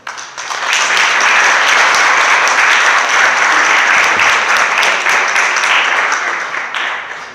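Audience applause welcoming Maestro Mircea Macilou to a presentation: a dense, steady wash of many hands clapping close by, rising quickly, holding for several seconds and tapering off at the end, with no talking.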